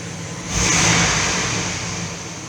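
A camper van engine idling with a steady broadband rumble and hiss that swells briefly then settles, close by with no talking.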